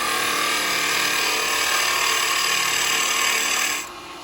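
A carbide chisel cuts into a lathe-spun piece of log-pile firewood being turned into a Christmas bell, giving a steady, close scraping hiss of shavings coming off that cuts out abruptly near the end.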